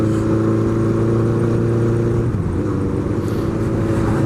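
Honda Nighthawk motorcycle cruising on an open road, its steady mid-pitched engine drone loud and close with wind rush, the tone dipping briefly midway as the throttle eases before settling back into a constant hum.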